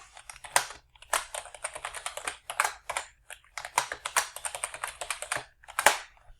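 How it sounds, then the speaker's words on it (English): Fast bursts of typing on a computer keyboard while entering passwords, crisp close key clicks in rapid runs separated by short pauses, with no one talking. "Type our passwords in, hit next again, and then hit finish."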